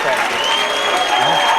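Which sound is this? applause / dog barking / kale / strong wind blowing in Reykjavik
applause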